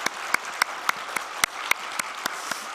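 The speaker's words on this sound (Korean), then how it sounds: "어제 수고하신 분들 위해서 우리 박수 한번 해드릴까요?" A church congregation claps together in a short round of applause, a dense patter of many hands at moderate distance with no talk over it.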